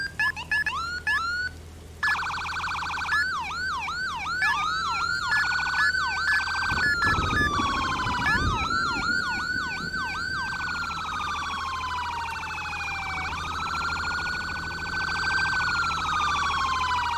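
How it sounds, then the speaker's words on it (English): Police siren tones from a Roblox ERLC game vehicle cycle through rapid yelps, wails and electronic warbles, loud and close, with a short rumbling burst midway and slower sweeping tones toward the end. "Now I'll run over and show you some of the police sirens."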